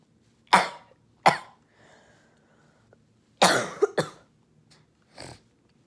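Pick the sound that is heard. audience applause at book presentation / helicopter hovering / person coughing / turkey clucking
person coughing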